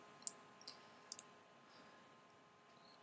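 A few faint, sharp computer mouse clicks against near silence while clicking Submit on a web form, with a slightly louder click at the very end.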